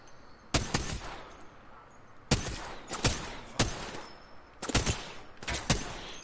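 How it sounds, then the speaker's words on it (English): Bursts of gunfire in the video game Apex Legends: four sharp volleys of rapid shots, each a tight cluster of loud cracks separated by short pauses. "Keep shooting at her."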